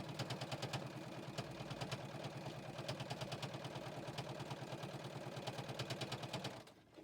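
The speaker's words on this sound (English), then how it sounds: "now I'm coming up to my 3 layers that I'm sewing through" A JUKI sewing machine runs continuously, stitching through three layers of fabric with a fast, even mechanical clatter, close and steady until it stops near the end; no one speaks.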